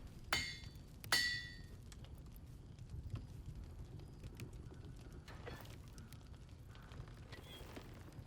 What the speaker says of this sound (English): Get to the hammering.